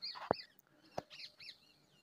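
Birds call among pigeons, parrots and peacocks in Rajasthan, a few faint chirps and tweets with a couple of sharp clicks, sparse and somewhat distant.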